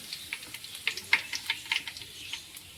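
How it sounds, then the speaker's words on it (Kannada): Curry leaves, cumin and mustard seeds sizzle and spit in hot oil in a home kitchen, a quiet, uneven crackle of sharp pops and little bursts over a soft frying hiss. "ಇವಾಗ ಎಣ್ಣೆ ಕಾಯಿದ ತಕ್ಷಣ ನಾನು ಫಸ್ಟಿಗೆ ಇಲ್ಲಿ ಕರಿಬೇವಿನ ಸೊಪ್ಪು ಹಾಕೋತೀನಿ ನೋಡಿರಿ"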